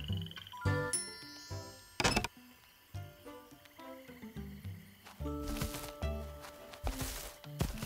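A tiny frog croaking in The Plucky Squire video game, short croaks repeating among chiming game tones and music, with no talking.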